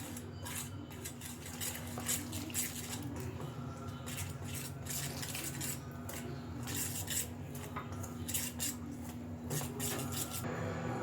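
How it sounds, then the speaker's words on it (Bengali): Gram flour batter is mixed with water in a bowl, producing steady, close scraping and clinking of a utensil against the bowl, with no talking. "এবার এটাকে আমি গুলিয়ে নেব জল দিয়ে।"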